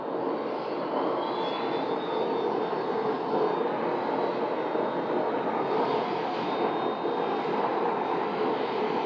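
An aircraft flies overhead near Scottsdale airport as a steady, broad engine roar that holds at a constant level without fading, with no talking.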